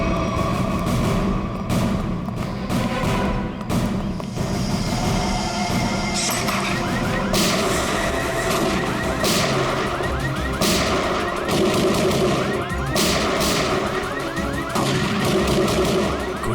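Gunfire in a scene from the Hindi TV crime drama CID, rapid loud shots cracking in bursts over a dense, busy dramatic soundtrack that runs throughout.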